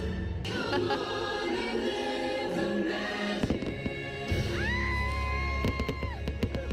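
Fireworks at Disneyland bang and crackle at a distance amid crowd noise, with cheering and a few shouts, and later a sustained whistling tone over the scene.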